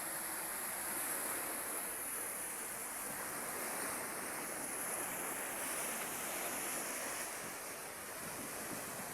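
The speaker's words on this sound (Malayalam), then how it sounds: "ഇങ്ങനെ വെള്ളം തിരമാല അതുവരെ അങ്ങോട്ട് അടിച്ച് കയറുന്നുണ്ട്" Sea waves wash steadily onto a shore, a continuous broad roar of surf with some wind across the microphone, no voices present.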